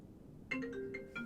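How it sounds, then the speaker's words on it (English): A phone ringtone signals an incoming call, a short melodic chime of a few quick tones starting after a brief quiet, sounding clear and nearby. "Someone's ringing me."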